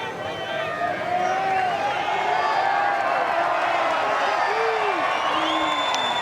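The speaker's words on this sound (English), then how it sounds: "Because everyone holding the umbrella, so it's just roars and cheers." Large golf gallery at Royal Portrush roaring and cheering during the Open Championship, a sustained, loud wash of crowd voices and whoops with little clapping, spread evenly across the whole stretch.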